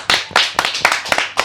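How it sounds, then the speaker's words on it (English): A tiny studio audience of about five people claps on election results night, a sparse, close patter of individual hand claps in uneven bursts rather than a crowd roar. "Huge round of applause."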